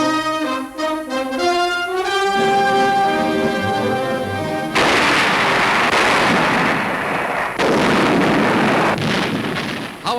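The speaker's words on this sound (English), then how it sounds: "Howitzers of the Chinese 20th Group Army laid down a barrage against the ancient walled city of Tengchung" Howitzers of the Chinese 20th Group Army shelling the walled city of Tengchung in Burma, 1944, heard as loud, continuous rumbling blasts on an old newsreel soundtrack, following a stretch of tonal music.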